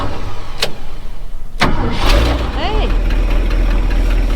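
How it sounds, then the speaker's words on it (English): A 1970 Ford wrecker engine cranks after a couple of sharp clicks, then catches and settles into a steady low idle, loud and close, with brief voices over it. "will it crank? I don't know, depends on the starter"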